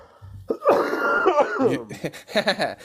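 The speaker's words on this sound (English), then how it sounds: "if I start like making weird noises and like coughing and stuff, I apologize" A person coughs and clears their throat in a few rough, close bursts, the loudest stretch in the middle and a couple of short hacks near the end.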